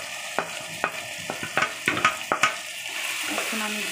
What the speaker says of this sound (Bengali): এখন আমি ভালোভাবে নেড়ে সুন্দরভাবে নেড়ে নিব